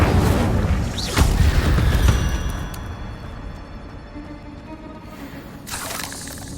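A fire spell cast in the Hogwarts Legacy video game bursts out as a loud booming whoosh with crackling flames, then settles into a lower rumbling roar before a brief bright flare near the end.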